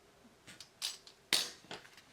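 Craft knife slicing through material for a handmade journal cover, a few short sharp scraping cuts spaced out over a quiet room, close and moderately loud.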